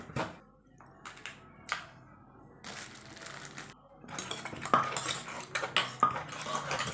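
Noodles for a papaya salad with crab and fermented fish are pounded in a mortar, a series of irregular knocks and clattering hits with short pauses, growing busier toward the end.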